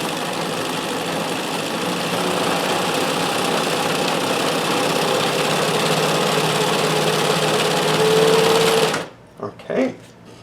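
A vintage sewing machine set to maximum stitch width and length runs a stretch stitch cam pattern, a steady loud whirring hum that stops abruptly, followed by brief bumps and a person speaking.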